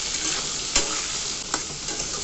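Eggplant pieces seasoned with salt and a little turmeric fry in a pan, giving a steady close sizzle broken by a few sharp clicks of stirring.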